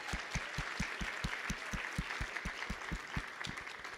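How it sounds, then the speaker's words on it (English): Quiet applause at a journalism symposium for students standing in the audience, with soft broadband clapping over a regular pattern of low thumps. "Round of applause."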